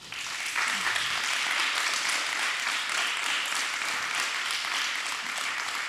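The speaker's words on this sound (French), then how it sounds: "Merci beaucoup, on peut les applaudir." Audience applause at a climate-awareness event on higher-education students, a steady, even wash of many hands clapping, heard somewhat distant and filling the whole stretch without pause.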